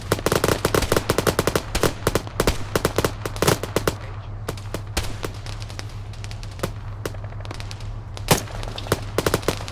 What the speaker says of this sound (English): Sounds like some MG.